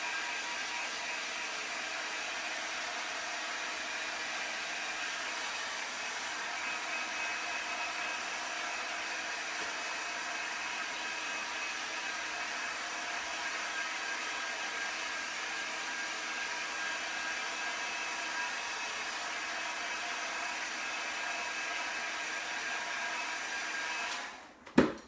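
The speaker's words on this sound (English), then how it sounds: "I'm going to take and heat set this. So give me a minute. I moved my heat tool over." A heat tool blows steadily for about 24 seconds to heat set craft ink, a constant airy whoosh that stops abruptly near the end with a brief click.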